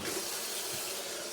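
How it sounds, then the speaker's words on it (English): Hot water runs from a sink faucet during a drain repair, a faint, steady hiss of flowing water throughout with no talk. "Let's run some hot water on it."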